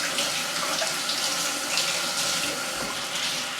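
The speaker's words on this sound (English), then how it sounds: "Wash my hand right there." Hands are washed under a running tap, a steady close rush of water splashing continuously with no talking.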